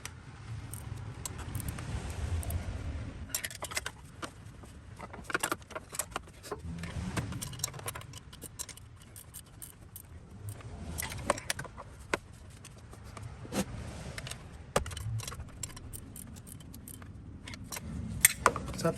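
A ratcheting box-end wrench turns the nuts on the fan clutch of a Toyota FZJ80 Land Cruiser, giving fairly quiet, repeated metallic clicks and jingles in uneven bursts, with occasional clanks against the engine bay.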